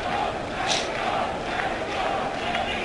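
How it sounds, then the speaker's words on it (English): Football crowd at an under-19 international match chanting to urge on the Mexican team, a steady distant roar of many voices with rhythmic swells over open-air noise. "See the crowd chanting now, trying to urge on the Mexican team."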